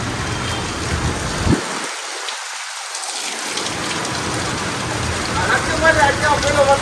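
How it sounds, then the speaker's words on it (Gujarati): Steady rain pours down outdoors at a heavy, close, hissing level, with a low rumble swelling and fading partway through and someone talking over it. "હા પેલો વરસાદ ઘણા ટાઈમ પછી ભાઈ"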